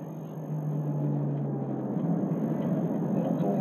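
A Maserati Coupe Cambiocorsa with a 4.2-litre engine of around 380 to 390 horsepower and a non-stock exhaust is heard from inside the cabin while driving, as a steady low droning hum that holds throughout.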